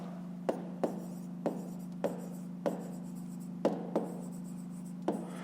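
A pen writes numbers on paper during a fifth-grade math exercise, making soft scratching strokes with sharp little taps at about one-second intervals over a steady low hum.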